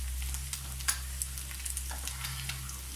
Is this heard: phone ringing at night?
no